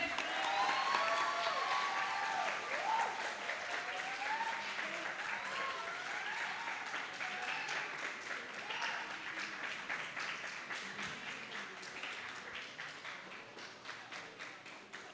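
Participants in a webinar on digital education applaud together, a steady patter of clapping that holds for about fifteen seconds and slowly thins out, with whistling or voiced tones mixed in near the start.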